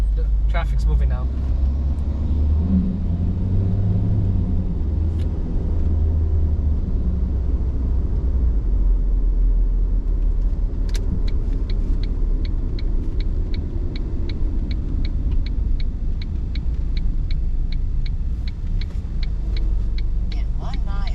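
Car driving along a road as traffic starts moving, a steady low engine and road rumble throughout with faint ticking, a voice talking over it in the cabin.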